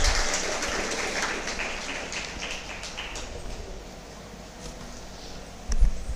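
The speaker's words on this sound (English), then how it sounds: "I request the audience to please join your hands and give a big round of applause." An audience applauds at a literature and translation event, a dense patter of clapping that gradually thins and softens, with a brief louder knock near the end.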